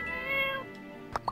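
A cat in the video game My Time at Portia gives one drawn-out meow, followed by two short soft clicks, with no talk over it.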